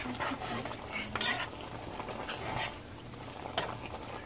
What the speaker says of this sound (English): We're gonna stir it up right now.